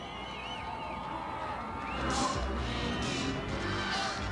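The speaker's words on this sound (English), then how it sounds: "Let's just take a listen to the crowd if we can." Parade crowd lining the route of the 1987 Minnesota Twins World Series championship motorcade, a broad steady wash of distant cheering and chatter that swells in the second half with scattered louder shouts.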